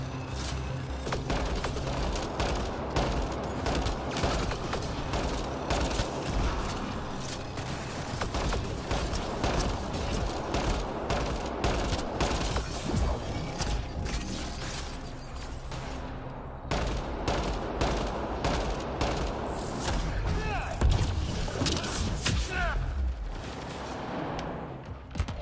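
Heavy, sustained automatic gunfire from a firefight in Mass Effect Andromeda, dense and loud throughout with rapid overlapping shots and booming impacts.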